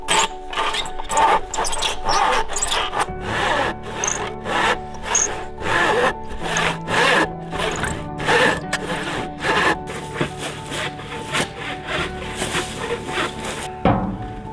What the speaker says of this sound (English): remember just the weight of the saw.